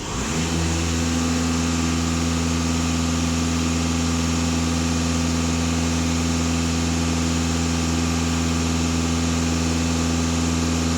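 A VW Passat B8 engine idles steadily after a brief start-up, a loud, constant low hum with a steady drone and no talk.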